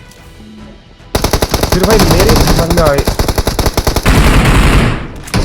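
Rapid automatic gunfire from a mobile battle royale shooter, Battlegrounds Mobile, rattles loudly in dense bursts for several seconds while someone talks excitedly over the shots.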